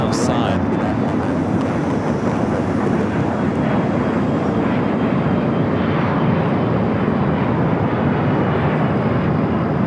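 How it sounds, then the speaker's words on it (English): DHL ABX Air converted Boeing 767 freighter taking off at night from Los Angeles airport, a loud broad jet roar sustained throughout with wind buffeting, a voice briefly talking over it. "We're still waiting on that DHL ABX Air flight 403 headed to Cincinnati, converted 767 at 300 yard,"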